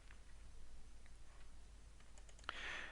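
A computer mouse clicks quietly a few times in quick succession near the end, faint over a low background hum.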